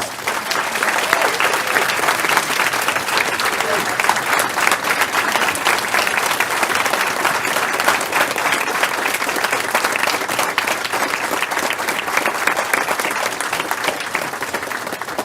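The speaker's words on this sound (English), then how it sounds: "so I think they all deserve a round of applause" Loud, sustained applause from an audience at a Board of Education meeting for a group of young people standing before it, dense clapping continuing evenly for the whole stretch with no talk.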